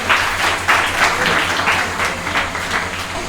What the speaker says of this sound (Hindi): जोरदार तालियां हो जाए ईशु के लिए